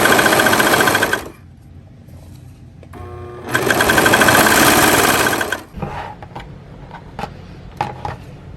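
Serger sewing machine stitching fabric for knotted headbands, two loud steady whirring runs separated by a short pause, then quiet fabric handling and small clicks.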